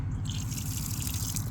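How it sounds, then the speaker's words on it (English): Water flows steadily out of an open 90-degree ball valve spigot on an IBC tote, a continuous close splashing gush with a low rumbling undertone and no pauses. "water comes out"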